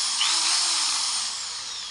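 A repaired electric drill, which had stopped turning, now runs with a high steady whine, loud and near, winding down slightly toward the end.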